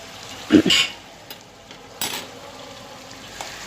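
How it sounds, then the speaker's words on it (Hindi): Chicken frying with ginger garlic paste in a pan for tawa masala, a low steady sizzle broken by a couple of sharp spatula clanks and scraping stirs up close. "अदरक लहसुन का पेस्ट को मिक्स करके ताकि उसका सारा कच्चापन निकल जाए और चिकन भी अच्छे से फ्राई हो जाए"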